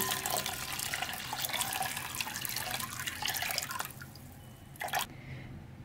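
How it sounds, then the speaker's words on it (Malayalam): About a third of a cup of water is poured into a pot for a thick green gram and broken wheat porridge, making a steady close splashing trickle that fades into a few drips. "ഞാനിപ്പോൾ ഇതിലോട്ട് ഏകദേശം 1/3 cup വെള്ളമാണ് ഒഴിച്ചേക്കുന്നത്."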